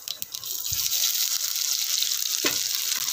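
Mustard and cumin seeds splutter in hot oil while tempering masoor dal, a steady close hiss and crackle with a couple of sharper knocks from the pan.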